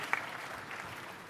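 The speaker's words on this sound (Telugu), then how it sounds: "చప్పట్లు కొట్టి అభినందించండి." Applause from the audience at a large parent-teacher meeting addressed by a chief minister, heard as steady, moderately faint clapping with a brief sharper clap near the start and no talk over it.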